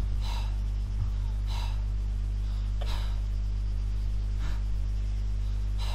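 An Arma 3 soldier character pants heavily in a jungle, with about five loud, evenly spaced breaths over a constant low electrical hum.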